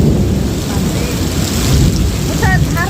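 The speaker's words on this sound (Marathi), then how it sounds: "खूप जोराचा पाऊस आला आहे" Dense, steady roar of heavy cloudburst rain driven by strong wind, continuous and loud throughout, with brief faint tonal chirps near the end.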